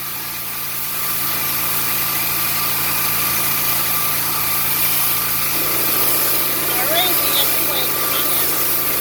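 A truck engine idling steadily with a low, even hum and constant mechanical drone throughout, with faint voices underneath.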